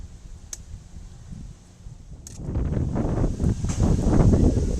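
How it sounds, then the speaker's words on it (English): Wind gusts outdoors at a kids camp by an old fire pit, starting as a faint rush and swelling into loud, buffeting blasts across the microphone over the last seconds, with a few light clicks. "There's a little bit of wind right now"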